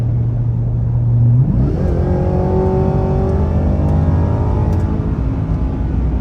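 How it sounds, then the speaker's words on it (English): Supercharged engine of a 2024 Ford F-150 Raptor R pulls hard under acceleration, a steady low idle swelling into a rising whine that climbs and holds loud throughout, with no talking. "That supercharger whine sounds amazing, and it definitely kicks you right back in your seat."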